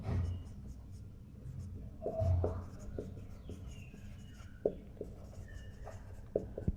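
Pen writing on paper for a Bengali accounting lesson, a steady scratchy rustle of strokes broken by a few short taps and pauses, close and fairly quiet, with no talking.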